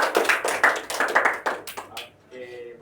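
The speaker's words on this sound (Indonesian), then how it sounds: "Tepuk tangan dulu untuk Adel." Students in a classroom clap for a classmate after a good answer in an accounting lesson, giving a short, uneven round of hand claps that fades within two seconds before a voice resumes.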